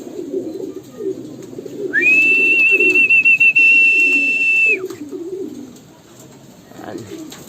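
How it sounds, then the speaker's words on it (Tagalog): Pigeons or doves coo in low, soft repeated bursts throughout, joined midway by a long, steady, high whistle that holds for a few seconds before cutting off. "Ayun, mga ibon."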